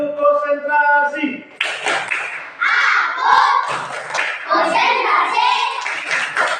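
Children in a classroom clap their hands in a rhythmic concentration clap pattern, a series of sharp, close claps after a teacher's sung count; voices chant along with the claps.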